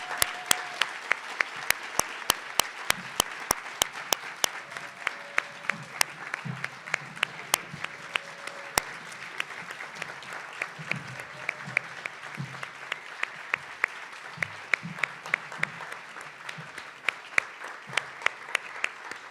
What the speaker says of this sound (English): Please join me in one more round of applause for these amazing winners.